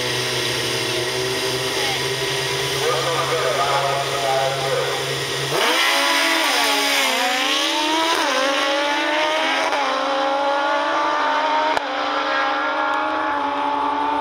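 Drag-racing motorcycles in a bike final at Cecil County drag strip roar continuously, engines revving high and rising in pitch as they launch and accelerate, loud and sustained throughout.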